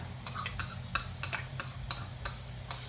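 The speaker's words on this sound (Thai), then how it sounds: "เอาไปเจียวให้หอมก่อนนะคะ" Garlic fries in hot oil in a pan, a loud close sizzle with rhythmic scraping as it is stirred, several spatula strokes over the steady hiss.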